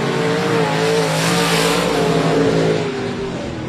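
Limited modified race cars roar around the I-37 Speedway track, loud and close, their engines blaring in a sustained, layered drone with rising and falling pitch as they pass.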